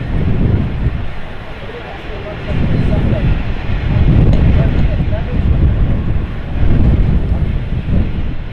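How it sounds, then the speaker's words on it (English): Steady wind at Manchester Airport roars and buffets against the microphone, a continuous low rumble that swells and eases in gusts throughout. "The wind is blowing."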